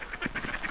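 Ducks quack close by in the rain on a farm during feeding time, a quick run of several nasal calls within under a second.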